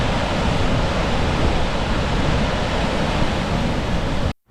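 Gullfoss waterfall in Iceland roaring as a loud, unbroken broadband rush, close and constant before cutting off abruptly at the end, with no voices.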